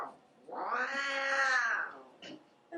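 A kitten wrapped snugly in a towel like a little roll gives one drawn-out, close meow lasting over a second, followed by a brief soft noise and quiet.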